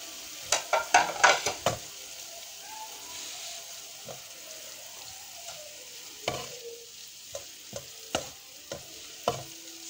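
A spoon scrapes and stirs chicken and fresh coriander into a sizzling masala in a pan, a quick burst of clattering strokes at first, then scattered knocks over a soft steady fry.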